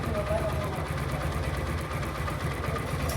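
A small four-valve motorcycle engine idles with a steady low rhythmic chug, close by, while a person talks over it.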